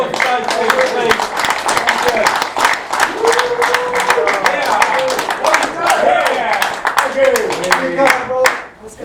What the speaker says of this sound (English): Big round of applause for those two, please.